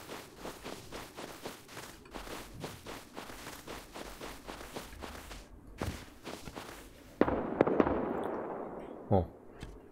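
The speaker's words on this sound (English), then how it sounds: "Tu explosive bullet tu." Rapid bursts of explosive bullets crack in the survival game Rust, a dense run of sharp pops giving way to a few louder, heavier blasts near the end.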